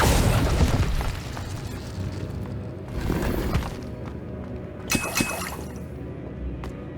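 Fiery spell blasts of Confringo and Incendio in Hogwarts Legacy, a loud booming burst at the start followed by a second whooshing flare and crackling impacts, all close and forceful.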